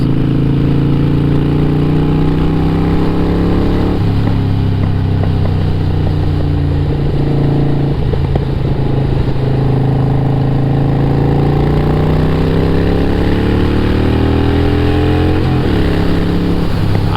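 A Harley-Davidson Sportster motorcycle engine idles loudly and close by, a steady throaty rumble whose pitch wavers slightly throughout.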